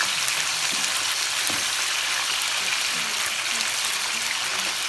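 Peppers sizzling in a pan of hot oil, a continuous bright crackling hiss with scattered pops, steady and close throughout.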